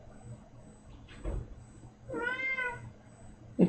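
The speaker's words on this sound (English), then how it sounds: "If you can hear Kibi, which I bet you can, he's the cat I drew on last Friday." A cat shut in a crate gives a drawn-out, rising meow, close and fairly clear, preceded by a softer short cry and a thump or rustle; no one speaks.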